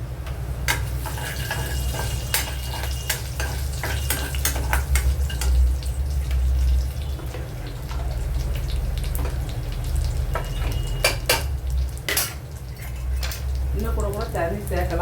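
Dried fish fry steadily in a kadai with oil, giving a continuous loud sizzle and crackle with scattered clinks of a utensil against the pan throughout.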